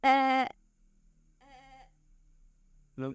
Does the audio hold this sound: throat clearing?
no